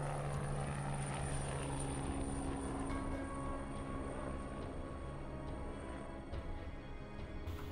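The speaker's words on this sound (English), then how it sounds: "What's that plane? Is that a C-130? It's a C-130." A C-130 transport aircraft drones overhead in the DayZ video game, a steady, broad propeller rumble that fills the whole clip at moderate distance with no talk.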